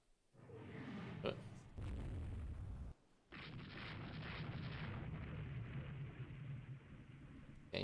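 Naval guns firing in the warship game Rule the Waves 3, heard as heavy, continuous booming rumbles with a short break in the middle, loud and without talking.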